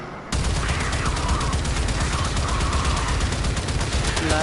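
Rapid, continuous gunfire from a PS4 shooter game erupts after a brief quiet start and stays loud and dense to the end, with bursts overlapping in a steady barrage.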